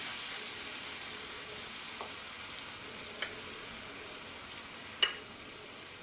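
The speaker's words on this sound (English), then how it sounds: "So I don't have a lot of oil here because I'm not deep frying this." Vegan patties fry in a shallow layer of oil, a steady close hiss and sizzle with a few faint clicks and one sharper pop near the end.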